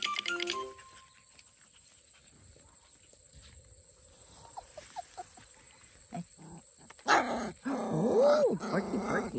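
Puppies at a kennel growl and yip while playing, with scattered small noises at first and then a louder burst of overlapping growls and squeaky barks near the end, fairly close.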